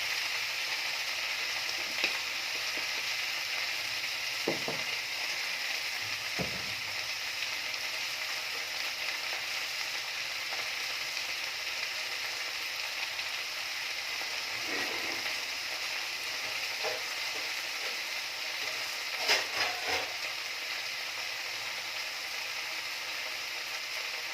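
Salted leafy greens frying in a pan give a steady, close sizzle, broken by occasional soft scrapes and knocks as they are stirred, with no voices.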